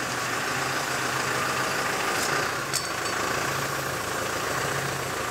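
A LOVOL 1054 tractor engine idles steadily at close range, a continuous low rumble with a faint mechanical vibration and a couple of brief clicks, no voices.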